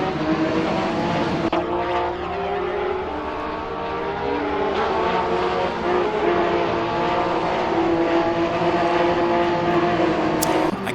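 Porsche 911 GT3 Cup 2017 race car engine in the Assetto Corsa racing game at Laguna Seca, a steady, loud high-revving howl sustained throughout with slight pitch shifts through gear changes and no talk.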